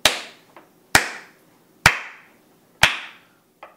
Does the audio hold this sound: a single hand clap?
yes